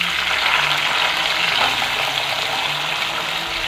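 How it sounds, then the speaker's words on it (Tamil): Turkey berries fry with onions in a hot pan, giving a loud, dense, continuous sizzle with watery crackle throughout and no voices. "இந்த ஸ்டேஜில் நம்ம எடுத்து வச்சுருக்கிற சுண்டைக்காயை போட்டுடலாம்."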